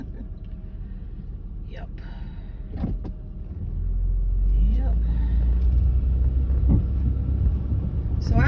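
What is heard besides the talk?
Honda Pilot driving over rough, damaged streets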